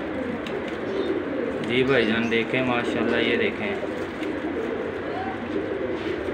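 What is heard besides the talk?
pigeons cooing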